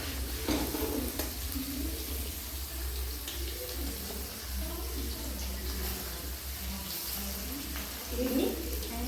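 Rice being fried and stirred with fried vegetables, cashews and raisins for fried rice paneer: a steady sizzling hiss under continuous scraping and stirring, with brief louder rustles at moments.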